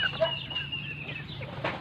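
Rhode Island chickens cluck and chirp softly at feeding time, with short scattered calls over a steady low farmyard hum and no talking.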